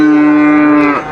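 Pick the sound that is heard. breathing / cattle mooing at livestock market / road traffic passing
cattle mooing at livestock market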